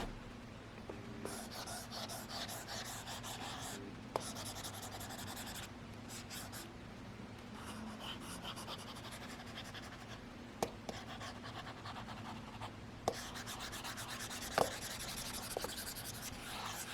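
A stylus writes on a Mobiscribe e-ink tablet with a dry, pencil-like scratching, faint and close, coming in bursts of strokes separated by short pauses, with occasional light taps.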